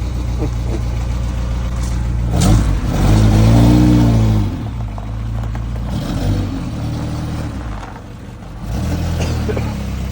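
Ferrari 308 GTB engine idling and revving nearby on a roadside, with a couple of throttle blips swelling over a steady mid-pitched idle, heard alone.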